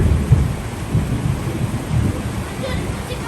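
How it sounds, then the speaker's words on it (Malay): A low rumble of thunder rolls through steady rain, deep and boomy near the start, then fading into hiss and wind noise. "Dengar tu kilat tu."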